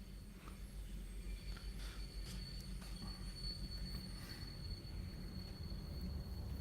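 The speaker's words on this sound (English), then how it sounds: "Sound of the train in the background adding to the ambience there" Train rumbling past in the distance near a football stadium, a low steady roll with faint high wheel squeals over a continuous background hum, no talk.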